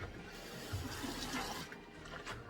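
A wet makeup sponge being wrung out with dirty water and cleanser, giving a soft, close squelching trickle of liquid that runs steadily for a couple of seconds with no talking.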